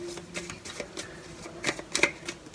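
Tarot cards drawn from a deck, a series of light papery flicks and taps, close and fairly quiet, with a few sharper snaps near the end and no talk.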